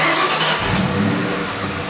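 A 2003 Ford Mustang SVT Cobra (Terminator) V8 in stock form, revving steadily and loudly at close range. The engine note holds a broad, sustained roar for about two seconds with no talking.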